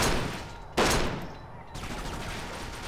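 Gunfire in the crime shooter Kane and Lynch 2: Dog Days, with loud broadband bursts of shots, a sharp strong crack near the start, then continued rattling fire.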